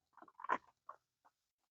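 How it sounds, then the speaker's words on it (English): Leftover rainwater drips from tree leaves onto a hammock campsite the morning after overnight rain, a few separate soft patters scattered through near silence, close by and irregular. "The drops you're hearing now is just the water falling from the leaves on the trees."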